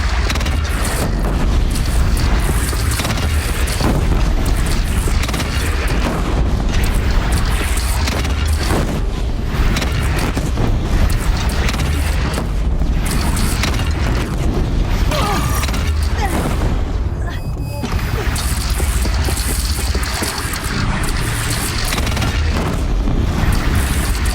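Cannon fire and explosions in a Horizon Zero Dawn battle, a dense, loud barrage of booms and rumbling blasts that runs without letup for the whole stretch.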